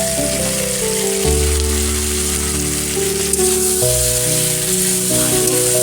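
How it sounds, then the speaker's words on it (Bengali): Ground spice paste mixed with spice powder sizzles and fries in a pan with softened tomato for a vegetarian chhana dalna, a loud steady crackle with music playing underneath. "সাথে ভালো করে মশলাটা কষে নেব।"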